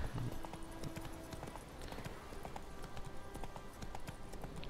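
Hooves of the horse Roach clip-clop steadily in The Witcher 3 video game, a continuous trotting rhythm over a dense ambient bed of game sound, with no voices.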